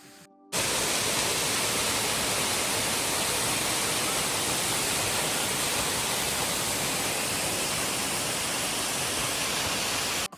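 Jana Waterfall near Manali with low water flow, a dense steady roar of falling water heard close up, starting abruptly after a brief quiet moment and holding constant until a sudden cut at the end.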